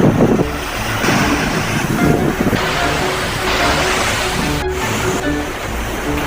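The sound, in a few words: strong ocean waves crashing on the shore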